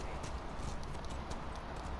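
Horse hooves clip-clopping in The Last of Us video game, a quick run of rhythmic clopping steps, moderately close, over a rumbling outdoor background.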